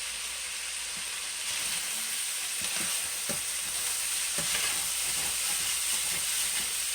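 A tablespoon of soy sauce and garlic powder sizzle in a hot pan of chicken fried rice over medium-high heat, a continuous close hiss with light scraping and stirring taps.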